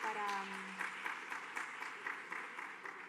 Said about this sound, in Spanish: un aplauso a Laura